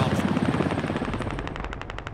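Rapid automatic gunfire rattles in the military shooter game Squad, with bursts of shots close by and a fast, regular stream of rounds near the end.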